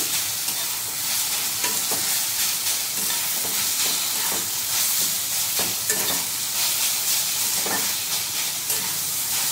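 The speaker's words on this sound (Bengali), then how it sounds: "ঠিক এইভাবে কিছুক্ষণ সময় ধরে ভালোভাবে নাড়তে হবে, যাতে সজনে শাকের যে জলটা বেরোয় সেটা যেন পুরোপুরি শুকনো হয়ে যায়" Drumstick (moringa) leaves stir-fried in a pan on a gas stove: a steady close sizzle and hiss with repeated scraping and tapping of the spatula as the leaves are stirred dry.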